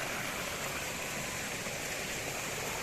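A strong-flowing water spring in Binalew, Clarin, giving off a steady, dense rushing of water heard alone and up close.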